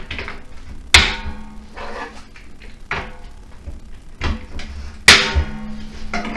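Plastic parts of a Craftsman 5-gallon 4 HP wet/dry vac being fitted together, with sharp snaps and clunks at irregular intervals, two of them louder pops, between softer handling rustles and no speech.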